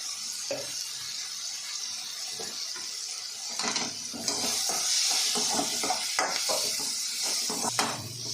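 Spices and chapati masala, including chilli powder, garam masala, pepper and turmeric, frying in a pan for chilli chapati, with steady sizzling and scraping stirring strokes close by, growing a little louder midway.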